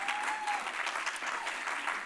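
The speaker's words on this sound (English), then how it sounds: "I hear the clap. You can keep going." Audience applause at an evening talk event, a dense, steady wash of clapping from a crowd lasting throughout without pause.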